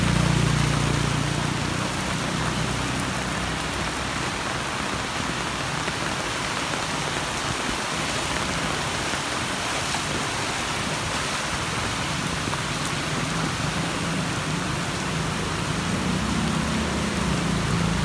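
Heavy rain with hail pours steadily at a roundabout by gate 11 during light street flooding, a loud, dense, unbroken wash of water with no talk heard.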